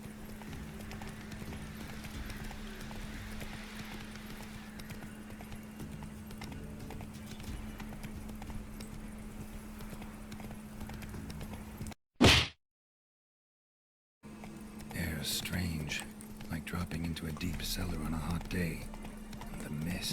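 Hooves clip-clop steadily as a horse gallops in The Witcher video game, a continuous rhythmic patter under a low steady hum, broken by a sharp hit and a brief silent gap before galloping resumes alongside someone speaking.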